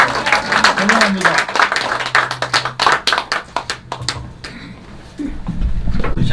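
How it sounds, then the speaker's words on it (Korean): A church audience welcomes a pastor at an anniversary thanksgiving service with a burst of hand clapping that gradually thins out into scattered claps, followed by quieter room sound and low rumble. "이왕이면 박수도 한번 보내주세요"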